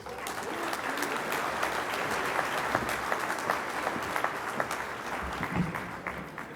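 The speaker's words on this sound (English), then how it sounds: "I request you all to give another round of warm applause for Mayor Bruce Harrell." Warm applause from a reception crowd at a consulate grand opening, a dense steady clatter of many hands lasting several seconds at moderate loudness, with no voices over it.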